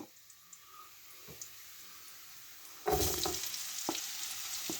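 Onions hitting a hot pan and frying, a quiet background that jumps into a loud, steady sizzle about three seconds in, with a few stirring scrapes and clicks continuing over the hiss.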